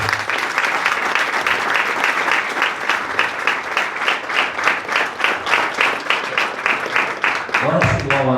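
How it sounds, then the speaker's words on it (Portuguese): A church congregation applauds during a wedding service, sustained rhythmic clapping from a crowd that fills the room and keeps an even beat, ending with a voice speaking at the close. "Você pode aplaudir Jesus pela palavra?"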